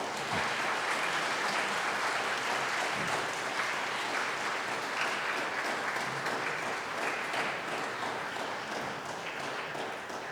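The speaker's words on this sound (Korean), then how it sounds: "꽃다발을 전해줄 때 뜨거운 박수로 축하해 주시기를 바랍니다" Warm, sustained applause from a large audience at a Korean university president's inauguration ceremony during a flower bouquet presentation, a dense even roar of clapping that holds for about ten seconds and eases slightly near the end.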